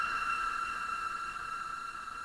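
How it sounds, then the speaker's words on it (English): A short, sustained electronic screech with bright, ringing high tones, a synthetic robotic scream from the Cymatics Viper kit holding steady for about two seconds. "I think this one's like a little robot scream"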